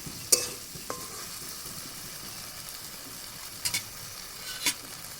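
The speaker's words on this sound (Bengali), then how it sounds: "মশলাটা প্রায় ভাজা হয়ে গেছে। আমি আর একটু নেড়ে চেড়ে নিচ্ছি" Masala frying in oil for chicken curry, stirred in the pan with a soft steady sizzle and a few sharp scraping clacks of the spoon, close and without talk.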